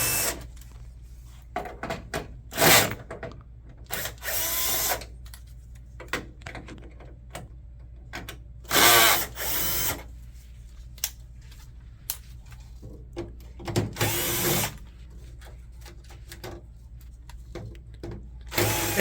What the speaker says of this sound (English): It helps to use a magnetic tip Phillips screwdriver so that the screws don't fall off.